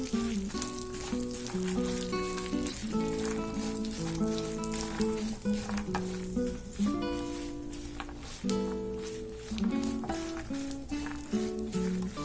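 Peanuts and dried red chilies fry in a pan for tamarind rice, a steady soft sizzle running under loud, continuous melodic background music.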